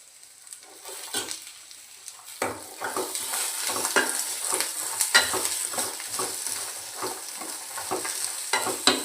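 Coconut chutney ingredients are stirred in a pan over a low flame, giving a soft continuous sizzle broken by repeated scraping and tapping strokes, close and fairly steady without any talk.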